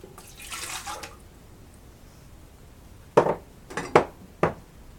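Water splashes briefly into a bread pan, followed after a pause by several sharp metallic clinks and knocks of kitchenware, all close and fairly quiet.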